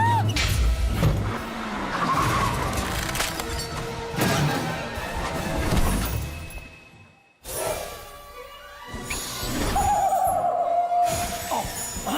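A car drives in a French-dubbed animated series, with a loud engine roar and skidding swells, a crash-like burst, and a brief drop to near silence before the motor noise resumes with a rising whine.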